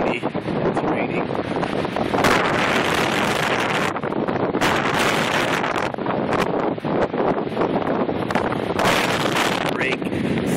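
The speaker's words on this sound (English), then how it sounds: "It is a bit cold, windy, it's raining." Wind gusts buffet the microphone outdoors on a cold, rainy day near the water, a continuous loud roar with rushing surges and no clear pauses.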